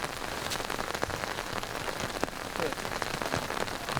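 Constant rainfall on an open golf course forms an even wash of hiss and patter, with a few sharper nearby drop impacts standing out.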